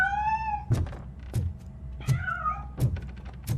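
Cat meowing in the RoboCop: Rogue City video game: a couple of clear, drawn-out meows close by, broken up by soft thumps and knocks at a steady pace.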